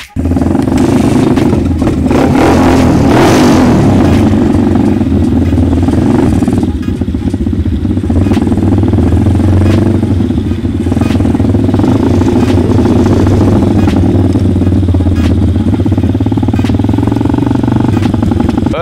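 A motorcycle engine starts up and revs loudly and close by, then keeps running with uneven throttle bursts and mechanical clatter for the whole stretch.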